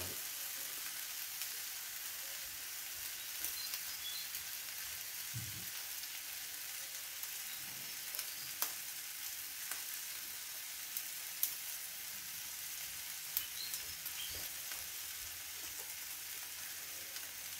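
Bacon sizzles on a Masterbuilt 1050 gravity fed grill, a steady hissing crackle throughout with occasional sharp pops and ticks.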